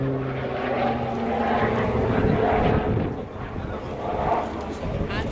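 A Shorts Tucano T1 propeller trainer of the Royal Air Force roars through a tight, high-G descending turn in an air display, with a loud, droning engine and propeller sound swelling and fading under a commentator's voice.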